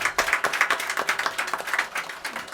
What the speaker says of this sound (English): the team Fourth Bell, which put together this wonderful performance, deserves a big round of applause and appreciation